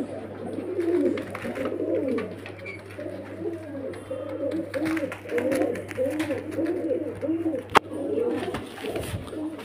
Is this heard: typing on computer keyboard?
no